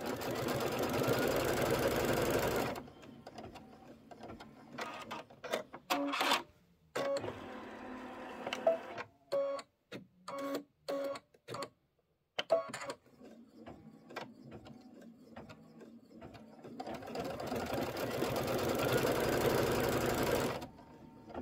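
Embroidery machine stitching a tack-down on a seasonal table runner, a steady mechanical needle whir at the start and end with stop-start bursts of stitching and short pauses between, close and moderately loud, with no talk.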